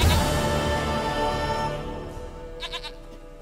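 A goat bleats loudly and close by in The Witcher 3, a wavering drawn-out cry that tapers off, followed by a few short higher chirps.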